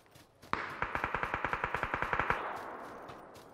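Rapid automatic burst from a QBU rifle in PUBG, about twenty evenly spaced sharp shots with a ringing echo tail, loud and close, no talking over it.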